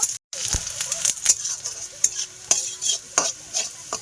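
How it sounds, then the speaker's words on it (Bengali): Chopped onion, crushed garlic and chilli sizzling in a pan, a steady bright hiss broken by sharp scraping knocks from a spatula stirring every half second or so, close and clear with no talking. "খুব ভালো করে পেঁয়াজ কুচি রসুন থেতো আর লঙ্কা ভালো করে ভেজে নেব"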